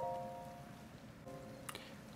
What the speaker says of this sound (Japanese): 大雨ですね。